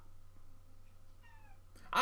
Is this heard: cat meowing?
yes